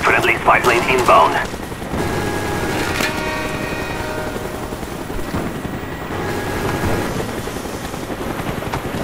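An aircraft drones overhead in Call of Duty Black Ops multiplayer, a steady roaring hum that fills the scene, with bursts of gunfire cracking near the start.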